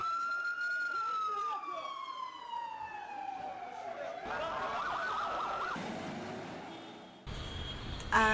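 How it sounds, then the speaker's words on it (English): A wailing ambulance siren in the Gaza Strip glides downward in pitch, loud and fairly near, with traffic rumble and a second siren tone cutting in near the end. "Now I hear the ambulances running."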